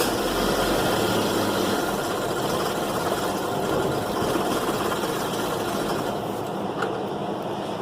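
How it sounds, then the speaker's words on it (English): A 2011 Chevy Equinox engine cranks over in a continuous, loud mechanical drone that holds steady from start to finish, with no voices. "Crank it up just to record it"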